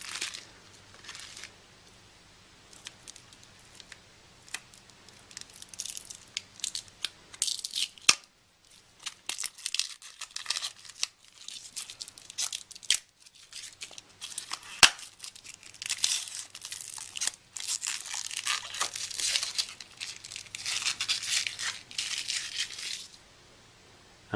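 Plastic wrapping is torn and crinkled off a refurbished first-generation Apple iPod nano, close-up crackling and ripping in irregular bursts with short quieter gaps.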